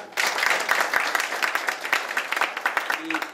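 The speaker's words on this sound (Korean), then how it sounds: "오늘 토론의 순서는 우선은 큰 박수로 시작을 해보겠습니다." Audience applause at a Seoul council ordinance debate forum on Yongsan base contamination, steady clapping from a room of people lasting a few seconds and thinning toward the end, with a brief voice near the close.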